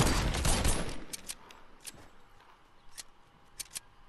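Gunfire in the Fortnite video game: a dense burst of shots at the start, then scattered single and double shots ringing out at a distance over a quieter background.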